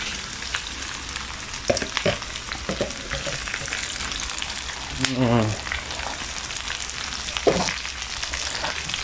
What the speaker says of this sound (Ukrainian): картопельку трішечки підсмажимо